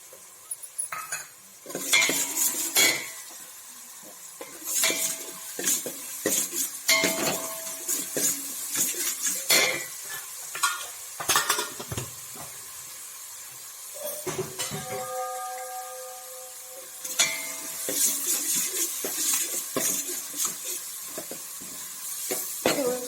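A mint tempering with small pieces of dried coconut sizzles in a pan while a metal spoon stirs and scrapes, bursts of clinking and scraping over a steady frying hiss, close and fairly loud.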